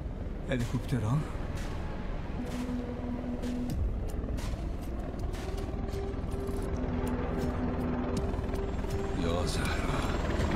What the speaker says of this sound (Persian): هلیکوپترها؟